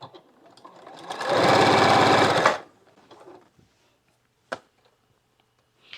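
A sewing machine runs in one steady burst of about a second and a half, stitching a white-fabric African Queen quilt block, then stops; quiet handling noises and a couple of small clicks follow.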